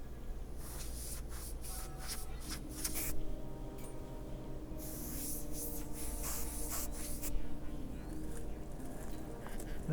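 Airbrush spraying paint onto a custom motorcycle helmet, a steady close hiss that comes and goes in bursts over a low background hum, with no talking.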